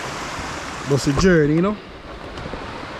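Loud river in Manchester, Jamaica, pouring past near a bridge, a constant broad roaring rush heard close up, with someone briefly talking over it.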